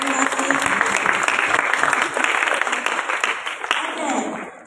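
An audience applauds two school debate teams at a junior high Indonesian-language debate final, sustained clapping with some crowd noise and voices mixed in.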